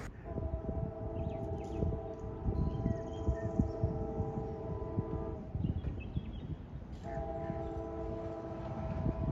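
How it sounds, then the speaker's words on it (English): A loud, sustained freight train horn blares in long steady tones near Folkston, Georgia, pausing briefly near the middle before sounding again, with rumbling rail noise underneath and a trackside defect detector going off. "we hear his horn and the defect detector at milepost 611 going off."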